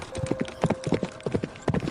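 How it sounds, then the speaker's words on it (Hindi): A horse's hooves clip-clop in a quick, even rhythm of sharp, close knocks, with a faint steady tone running beneath and no talk. "बाबा ने घोड़े को रोक लिया।"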